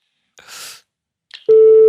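A telephone call's ringing tone sets in as a steady, fairly loud continuous tone and holds to the end, after a few brief breathy sounds and a gap of quiet.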